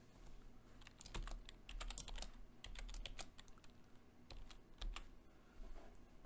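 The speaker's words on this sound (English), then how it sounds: "type in a new password" Keys clatter on a computer keyboard as a password is typed, quick irregular clicks in short bursts with brief pauses, close and fairly quiet in a still room.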